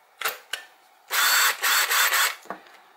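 Cordless drill powered by a Makita BL1850 battery, with a couple of short blips of the trigger followed by a longer run broken into several close bursts, then one last brief pulse, loud and near with no talk.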